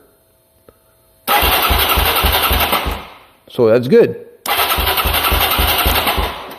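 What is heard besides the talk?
Yamaha Tri-Moto engine cranking over when coil is energized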